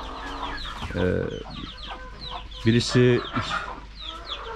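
Hens clucking at a village home, a few close, separate bursts of clucking with soft chirps between them, and a person speaking briefly.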